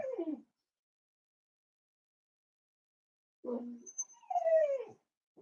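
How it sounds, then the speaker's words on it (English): A dog with an upset stomach whines indoors in two short, high, falling whimpers separated by silence, close and clear. "You can maybe hear my dog whining."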